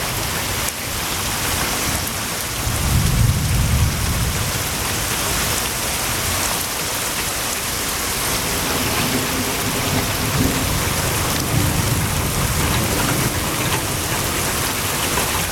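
Heavy rain pours steadily in East Texas, a dense continuous wash with low thunder rumbling near the start and again later, loud and close with no voices.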